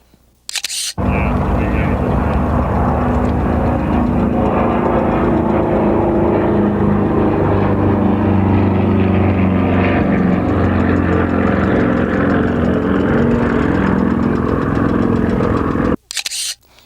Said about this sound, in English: we have to show you this beautiful aircraft in flight